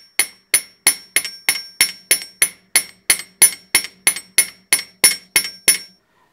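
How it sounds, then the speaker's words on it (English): A wire earring is hammered on a steel bench block in about twenty evenly spaced sharp metallic strikes, close and crisp, each ringing briefly before the next blow. "Going to hammer the top for hardening"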